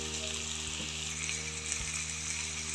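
Bread pulao ingredients fry in a pan with salt, turmeric and sugar, giving a steady close hiss of oil that holds throughout, with a couple of soft low knocks from the pan.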